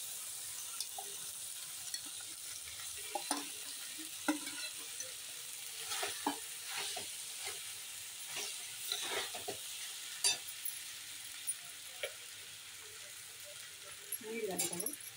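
Rice being stir-fried in a pan for homemade fried rice: soft sizzling with repeated scrapes and light clinks of a utensil against the pan, fairly quiet, with a faint voice in the background.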